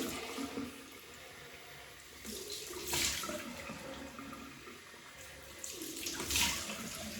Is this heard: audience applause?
no